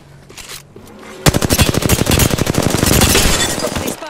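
Rapid automatic gunfire in Apex Legends on PC bursts in suddenly after a quiet lead-in, a loud, close, steady stream of shots that keeps going to the end.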